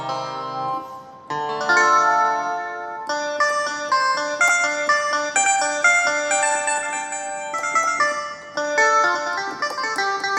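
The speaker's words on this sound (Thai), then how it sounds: "อันนี้เป็นเสียงกีตาร์พินเสียงคุย" A guitar pin preset played on a Kurtzman SV800 keyboard sounds as a steady run of plucked, guitar-like notes and chords, fairly loud and close, with no talking.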